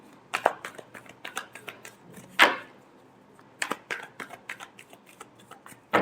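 Tarot cards being shuffled by hand, a quiet run of crisp, papery riffling bursts in irregular clusters, one sharper flurry midway, with no voices.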